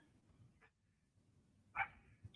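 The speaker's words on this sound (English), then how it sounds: "She's talking and barking at what?" A small dog barks indoors, two short sharp yips about a second apart with a faint whimper-like tail, nearby but quiet against a low room hum.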